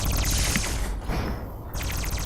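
Automated turrets in Fallout: New Vegas pour rapid fire at a Robo-Scorpion, a dense, loud stream of shots that drops off briefly in the middle and then picks up again, with no one speaking.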